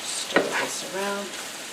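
Onions frying in a pan for shepherd's pie give a soft, steady sizzle with a sharp clatter of stirring and a short tonal note near the middle, heard close up.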